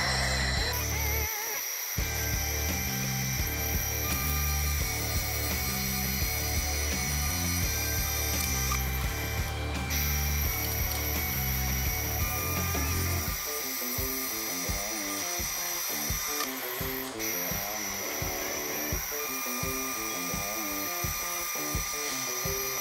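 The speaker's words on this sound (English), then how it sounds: "Let's finish off this cleaning pass with a couple of more runs." Laser cleaning passes on metal with an IPG LightWELD 1500 give a continuous mechanical whir with rhythmic ratcheting pulses and clicks that run steadily throughout, with a brief pause near the start.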